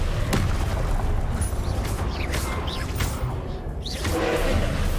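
Confringo blasting curse in Hogwarts Legacy combat, a booming burst with whooshing and creaking mechanical crackle, loud and busy amid a continuous fight soundscape.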